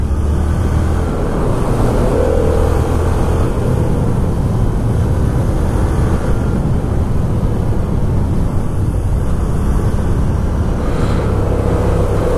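A Yamaha XSR 700 motorcycle with the MT-07 engine drones steadily while being ridden, under heavy continuous wind rumble, with no talk.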